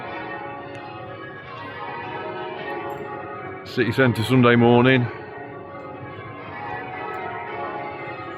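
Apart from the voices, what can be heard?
Derby Cathedral church bells ringing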